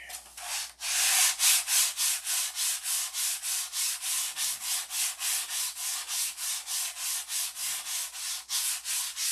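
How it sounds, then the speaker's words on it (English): Steady back-and-forth sanding strokes on a model airplane rasp in a regular rhythm, close and fairly loud, about three strokes per second with no talking. "So today is a day of sanding"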